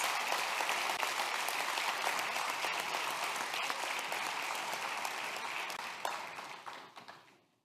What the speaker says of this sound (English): give a round of applause for all of our nominees